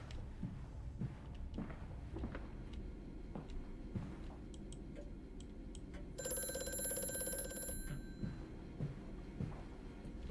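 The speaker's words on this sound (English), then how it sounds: "Phone's ringing." A telephone rings in the horror game Amnesia: A Machine for Pigs, one bright electric ring for a couple of seconds over a quiet, creaking ambient background with scattered ticks.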